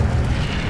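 A fiery spell burst in the Hogwarts Legacy game: a loud, dense whoosh and roar of flame, heavy in the low end, sustained evenly for under a second with no voices.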